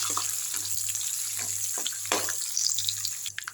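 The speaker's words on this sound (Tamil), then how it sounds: "இதிலே வந்து தட்டி வச்ச பூண்டு பல் போட்டுங்க இது எல்லாத்தையும் வறுத்துடலாம்" Dried red chillies and crushed garlic cloves frying in oil for a village-style amaranth greens dish, a continuous close sizzle with light scraping and stirring clatters over it, no talk.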